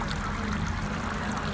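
Water runs and trickles steadily from a drinking fountain, close and continuous, with no voices.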